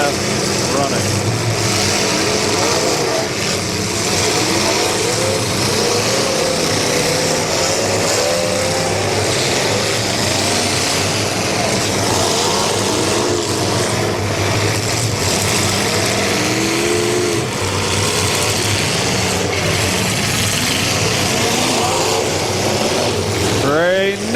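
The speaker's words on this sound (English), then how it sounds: "these vehicles have taken quite a pounding already today" Demolition derby cars at a bash-for-cash event rev and rumble continuously, with engine tones rising and falling and occasional crunching impacts, all loud and dense beneath a steady public-address announcer.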